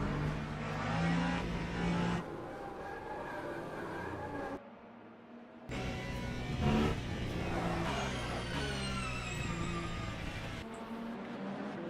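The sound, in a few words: race car engines revving in Le Mans Ultimate video game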